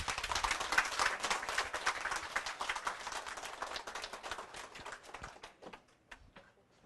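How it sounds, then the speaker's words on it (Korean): A crowd applauds as a company CEO makes an entrance at a Korean corporate event in Suwon. The dense, steady clapping fills the hall, then thins out and tapers to a few scattered claps at the end. "큰 박수 부탁드립니다"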